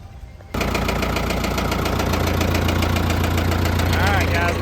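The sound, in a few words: Case 555C backhoe engine fired up and running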